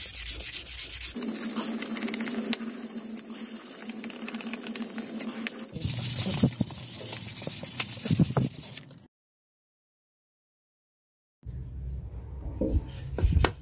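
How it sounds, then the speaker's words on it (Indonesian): Rhythmic scratchy rubbing of 240-grit sandpaper by hand on a machete handle, close and loud, pausing into silence for a few seconds before resuming. "Langsung saja kita amplas manual memakai grid"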